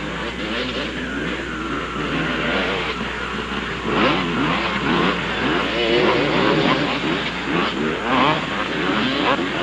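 Motorcycles race around a track, a Kawasaki among them, their engines whining and revving continuously in overlapping passes, growing louder midway as bikes come closer.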